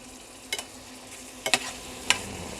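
Garlic butter and tiger prawns bubbling in a pan, a soft steady sizzle broken by a few sharp scraping or stirring clicks.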